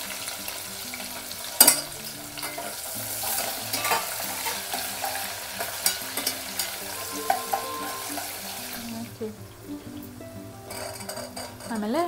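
Onion frying in oil with chana dal and urad dal for vangi bath gives a steady close sizzle, broken by stirring scrapes and occasional sharp clinks of a spoon against the pan.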